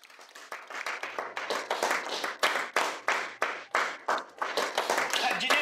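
A few people clap in a tense boardroom-style business meeting, sharp separate claps in an uneven rhythm that grows louder and quicker over several seconds, with no talk over them.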